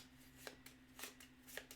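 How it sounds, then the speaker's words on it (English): A deck of cards being shuffled up close, with a run of quiet riffling bursts and soft card snaps at an uneven rhythm over a low background hum. "so I'm going to shuffle these up"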